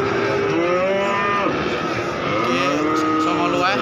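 Cattle mooing loudly and close at a livestock market, several long overlapping lowing calls over a busy outdoor background with faint voices.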